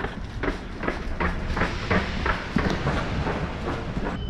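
Paris metro train running on its rails, a steady rolling rumble with repeated rhythmic clicks from the wheels crossing rail joints, heard from inside or close by with no talking.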